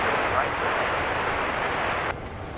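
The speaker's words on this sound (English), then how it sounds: "I hear that we've got a plane coming in here on 31 right, which is on the east side of the airport." An airliner landing on runway 31 right at Dallas Love Field gives off a broad, steady roar that drops slightly in loudness near the end.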